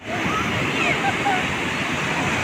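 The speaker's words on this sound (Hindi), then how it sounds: "देखिए फैमिली किस तरह से लहर उठ रही है।" Sea waves roll onto Puri beach in a steady, loud wash of surf that fills the short stretch without a break.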